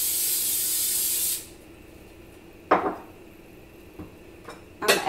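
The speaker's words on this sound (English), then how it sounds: "I'm gonna spray my vegetables in coconut oil" A short, loud spray of coconut oil from an aerosol can hisses for over a second onto vegetables, followed by quieter clinks and taps of cookware.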